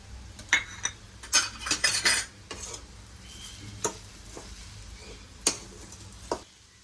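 A spoon scraping and clinking against a pan while jaggery and coconut modak filling is stirred, irregular metallic knocks and scrapes with a faint sizzle underneath.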